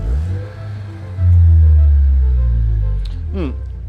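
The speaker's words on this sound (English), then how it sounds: "the Levante hybrid has the unmistakable sound of a Maserati" A deep Maserati Levante Hybrid SUV engine revs up loudly and holds a strong, throaty roar for a couple of seconds, then eases off with a brief higher burst near the end.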